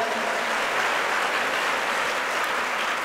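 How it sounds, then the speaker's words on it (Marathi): Crowd at a devotional kirtan gathering clapping hard and continuously, a thick even wash of applause from many people holding at a steady loud level from start to finish. "त्यांच्यासाठी एकदा जोरदार हृदयाच्या तळापासून टाळ्या होत्या"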